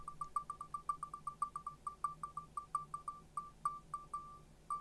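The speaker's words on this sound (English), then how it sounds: "So many birds around. The sounds are fantastic." Bird calls ring out outdoors in a quick, repeated series of sharp chirps, steady and fairly close, with faint background sound underneath and no talking.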